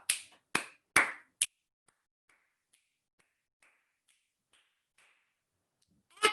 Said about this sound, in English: let's do our snap, clap,